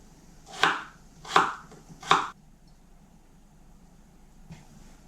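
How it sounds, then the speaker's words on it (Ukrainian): Three crisp knife chops cutting potatoes into cubes on a cutting board at an even pace, then a quiet pause with one faint knock. "Хочете нарізати кубиком? Будь ласка, хай буде кубик."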